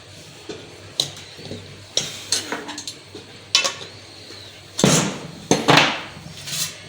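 A spoon scrapes besan halwa out of a pan onto a greased plate, giving a series of sharp metallic scrapes and knocks in an irregular rhythm, close and clear with no talking.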